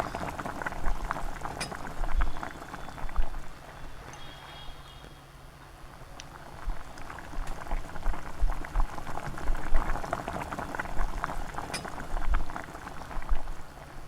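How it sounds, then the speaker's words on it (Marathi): Mustard seeds spluttering in hot peanut oil in a heated pan, a close crackling patter of rapid pops and sizzle rising and falling over about fourteen seconds, with no talking. "मोहरी टाकली आहे मोरी तडतडली की जिरं घालायचं आहे"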